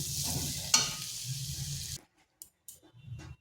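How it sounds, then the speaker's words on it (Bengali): Kohlrabi frying in a pan with a lid, a steady sizzle with one sharp clatter for about two seconds, then it cuts out to near silence broken by a few faint clinks and scrapes. "একটু নেড়ে চেড়ে ভেজে নিচ্ছি"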